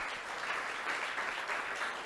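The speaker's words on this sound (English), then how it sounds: "Round of applause for John" Faint, distant applause from a conference audience at a tech showcase talk, a soft, even patter of many hands lasting a couple of seconds.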